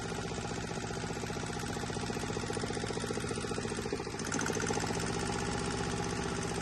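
A steady, close engine idles with a clogged fuel filter, holding a fast, rough, constant rumble that will not settle to a low idle, and briefly gets a little louder near the end.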